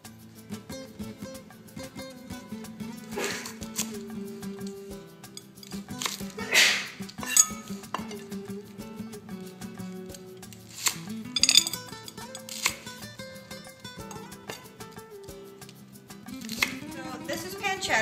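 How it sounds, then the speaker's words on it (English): A knife halving Brussels sprouts on a cutting board, giving a run of sharp, irregular chops and clicks at close range with faint dish and utensil clinks, no talking. "and then I'm going to cut them in half"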